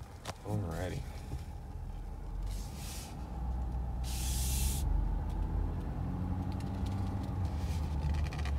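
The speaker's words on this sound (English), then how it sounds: "Let's go ahead and drive this truck." A 2021 Ford F-250 Platinum Tremor pickup with a 10-speed transmission pulls away and cruises, a low engine and road rumble heard from inside the cab, with brief hissing bursts and a voice over it.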